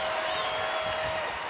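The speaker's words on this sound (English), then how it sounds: "the crowd putting their hands together" Baseball stadium crowd at a Rangers home game against the Astros clapping together in the seventh inning, a steady wash of applause with a whistle cutting through, dense and continuous across the whole moment.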